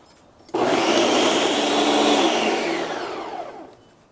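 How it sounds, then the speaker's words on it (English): A blender starts abruptly and whirs loudly, blending a burger sauce for a copycat Bougie Burger recipe; the steady roar holds for about three seconds before winding down, close and alone. "sauce has been transferred to the blender."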